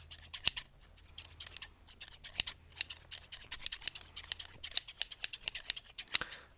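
Close, crisp snips of scissors cutting hair during a haircut, coming in quick irregular bursts with short pauses and no talking.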